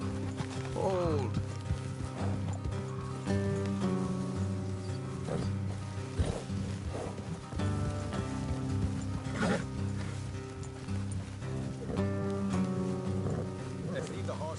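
Horses' hooves clip-clop at a walk along a road in the Red Dead Redemption 2 video game, soft repeated thuds under a steady musical drone, with mechanical clicks and voices talking.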